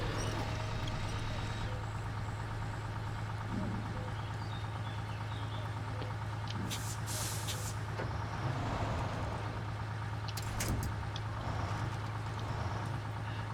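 In the SnowRunner video game, a truck's handbrake releases with a short, sharp burst of air hiss over a constant low engine drone. A second, briefer hiss follows a few seconds later, and no voices are heard.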